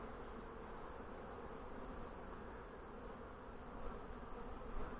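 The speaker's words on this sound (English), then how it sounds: "I'm going to shake as many bees off of this frame as I can." Steady, dense buzzing of many honey bees being shaken off a hive frame during honey collection, a low droning hum that swells slightly toward the end.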